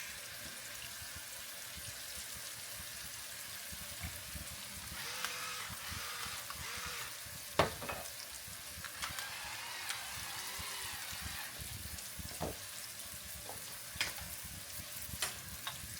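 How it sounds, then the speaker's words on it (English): Honey glazed salmon fillets, stood up sideways, fry in a pan with a steady sizzle, joined by sharp clicks and scrapes of cooking utensils. "Stand these up sideways so it cook nice and even all around."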